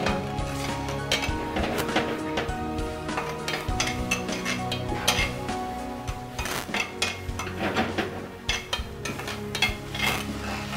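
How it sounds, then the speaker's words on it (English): A spoon stirs sauce in a cooking pan, making repeated close scraping and clinking strokes against the metal over a soft sizzle, in an uneven rhythm. "So I've been stirring it all up for a while now."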